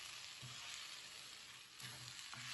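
Quiet, steady sizzling of onions and tomatoes frying in oil for salsa, with a couple of soft stirring scrapes.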